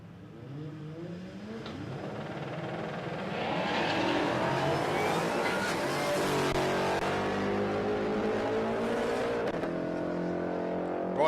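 Supercharged Ford Mustang drag car at Palmyra Raceway roars off the line, engine pitch climbing through rising harmonics to a loud sustained scream that holds until the end, heard up close and alone.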